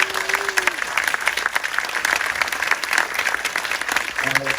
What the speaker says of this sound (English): So another round of applause for all of our films tonight.